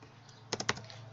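A short burst of three or four quick computer keyboard keystrokes, close and fairly quiet, typed while writing HTML and CSS code against a steady low hum.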